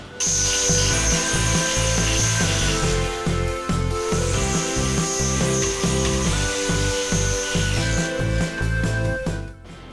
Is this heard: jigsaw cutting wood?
yes